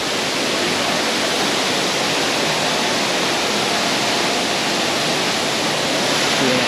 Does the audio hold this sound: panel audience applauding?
no